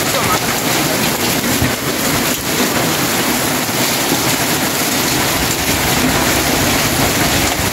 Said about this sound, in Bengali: বাইরে বৃষ্টি